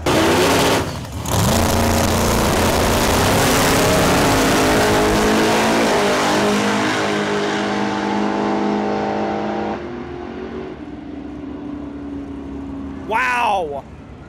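Outlaw and grudge drag race cars launch and scream down the track at BPIR, a loud roaring engine rising in pitch as it accelerates and fades into the distance, followed by a short burst of another engine revving.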